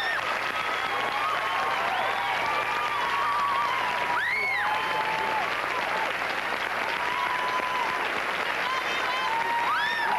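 Studio audience at a TV talk show applauding a guest, sustained dense clapping filling the whole stretch with some cheering mixed in.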